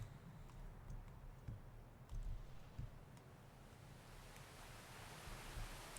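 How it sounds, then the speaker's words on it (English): A waterfall in the video game City of Heroes roars as a steady, faint wash of rushing water, broad and continuous, with a few soft low thumps and no voices. "Whoo, waterfall."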